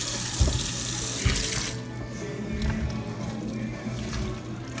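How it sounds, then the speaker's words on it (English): Snap peas are rinsed under a running kitchen tap, a steady close hiss of water into the sink with splashy dips and thuds as the peas are moved about in the stream. "So I'm going to rinse them off."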